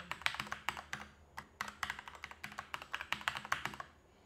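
Someone types a password on a computer keyboard, a quick run of close, crisp key clicks in irregular bursts with short pauses, quiet and with no talk.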